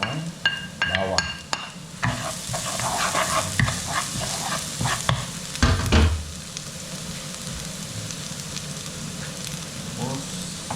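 Garlic and onion sizzle in a pan while a utensil scrapes and stirs them in irregular bursts, with a dog barking briefly and a voice speaking in the background.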